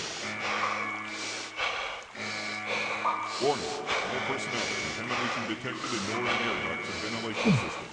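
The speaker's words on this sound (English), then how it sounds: "I can grunt and gasp at the same time." A player character in The Journeyman Project video game grunts and gasps for air in strained, breathy bursts, mixed with a person talking over the game.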